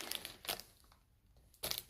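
Handmade gift packaging being unwrapped, giving short bursts of crinkling plastic or paper with quiet pauses between them, close and fairly soft.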